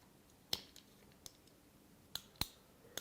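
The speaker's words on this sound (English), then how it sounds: "when you open and close your lid, it opens and closes the switch" A handful of faint, sharp plastic clicks at irregular intervals, like a small switch being pressed and released, against quiet background hiss.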